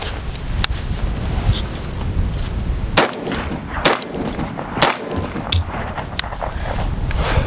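A Gen 3 BRN180 rifle firing 55 grain Federal ammunition unsuppressed lets off several sharp, loud shots at irregular intervals against a steady rumble of wind noise.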